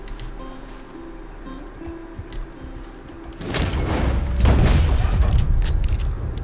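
A gunshot rings out in Red Dead Redemption 2 while hunting a wolf: a loud blast about halfway through, with a rumbling tail, after quiet ambience.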